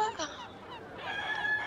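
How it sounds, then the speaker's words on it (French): Seagulls flying past give several harsh, squawking calls, close and fairly loud, over a soft ambient background. "Il y a plein de mouettes qui sont en train de passer là."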